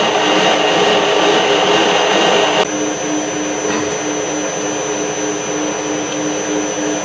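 A steady mechanical whirr of a metal lathe turning slowly at about 130 rpm while facing the end of a workpiece, constant and loud throughout with a slight shift in tone partway, no voices.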